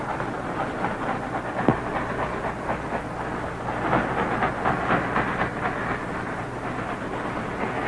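A train approaches in an 1951 Civil War action film, a steady broad rumble that builds slightly, with a sharp knock near the start, heard alone without voices.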